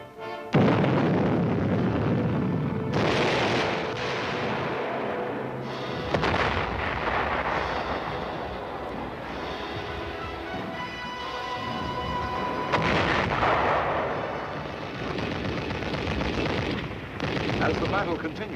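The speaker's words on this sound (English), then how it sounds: "more and more missiles reach their pre-selected firing sites and are thrown against the enemy" Military guided missiles launching against enemy positions in a battle: heavy booming blasts and roaring rumbles follow one another over about eighteen seconds, loud and dense, with a narrating voice at times.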